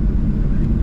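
A Ryanair Boeing 737-800 jet landing at London Stansted gives a loud, steady low rumbling roar, heavy in the bass and with no talk over it.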